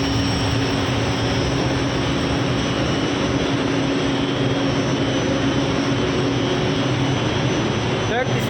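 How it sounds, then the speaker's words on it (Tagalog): An HVAC air handling unit runs with its supply fan at 45 Hz and its return fan at 50 Hz, producing a loud, constant mechanical roar with a steady hum, continuous throughout. "Return fan 50 Hz, supply fan 45 Hz."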